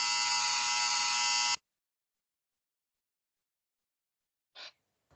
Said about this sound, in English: That was my dryer.